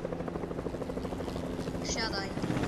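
A video game helicopter whirs and drones with a steady rotor beat throughout, with the sound of players' excited voices mixed in.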